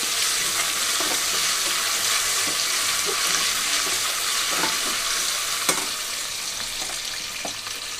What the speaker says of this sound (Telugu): 1 నిమిషం పచ్చి వాసన పోయే వరకు వేయించుకుంటున్నాను